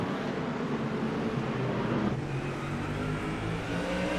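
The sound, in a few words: Ford Mustang GT3 race cars battling at Okayama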